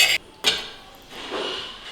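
Masala tipped into a mixer jar while cooking egg curry, heard as a couple of sharp metallic clinks and scrapes of a spoon against the jar, close and fairly loud, with quiet rustling in between.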